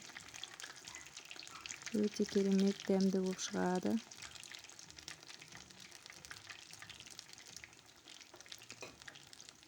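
Fish fries in oil in a pan until golden, giving a loud crackling sizzle that peaks for a couple of seconds, then settles into a faint background hiss while someone talks over it.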